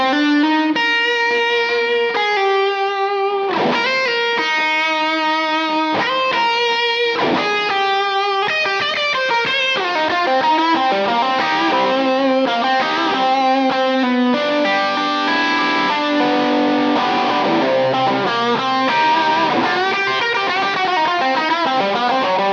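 Distorted electric guitar lead from a high-output Les Paul bridge pickup, played loud and alone, with picked melodic runs, sustained bends and chordal phrases flowing continuously.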